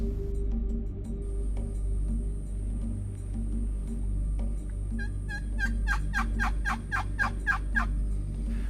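Rio Grande wild turkey hens call over a low steady rumble, building into a rapid series of sharp yelps and gobbles near the end.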